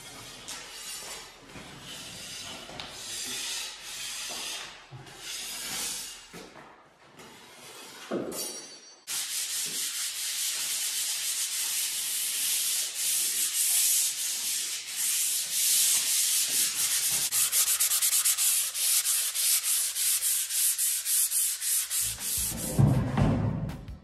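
Walls are sanded by hand before painting in a house renovation, a steady close scraping and rubbing that runs on in bursts at first and then continuously, with a brief clink near the end.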